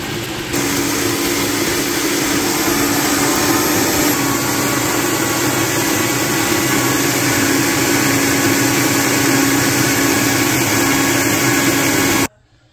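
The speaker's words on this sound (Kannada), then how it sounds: "ಇಡ್ಲಿ ಇದು ಇವಾಗ ಗ್ರೈಂಡ್ ಮಾಡಬೇಕು. ಇವಾಗ ಗ್ರೈಂಡ್ ಮಾಡ್ತಾಯಿದ್ದೀನಿ." A wet grinder runs steadily, grinding soaked urad dal, fenugreek, sago and beaten rice for idli batter. Its loud motor hum is continuous and unbroken for about twelve seconds, then it cuts off abruptly.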